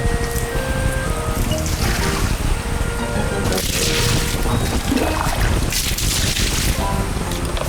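Water pouring down steadily in an outdoor setting, a continuous rushing splash with gusts of wind noise, loud and close throughout.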